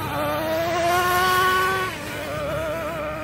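Nitro engine of a green Traxxas Revo RC truck racing in circles, a high buzzing whine that climbs steadily then drops as the throttle is released, heard from a moderate distance without talk.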